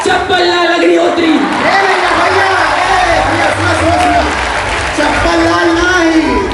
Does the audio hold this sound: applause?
yes